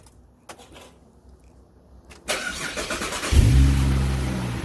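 A car engine cranks and catches after a quiet stretch during an oil change, then settles into a steady, loud idle close by.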